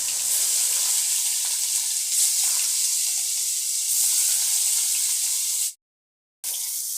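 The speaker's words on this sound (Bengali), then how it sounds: "মাছগুলো আমি ভেজে নেব তেল গরম হয়ে গেছে মাছগুলো এবং আমি ছেড়ে দিলাম" Rohu fish pieces coated in turmeric and salt fry in hot oil, giving a steady, close hiss that runs without pause and then drops out briefly near the end before resuming.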